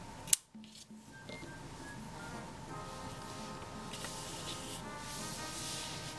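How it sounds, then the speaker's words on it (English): Scissors snip through acrylic crochet yarn after finishing a Grinch-themed phone pouch, a sharp close cut near the start followed by quiet handling and steady low room background. "Now I can cut my yarn and leave a tail end so that you can weave it in."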